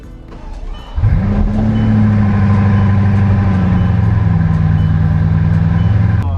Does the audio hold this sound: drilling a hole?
no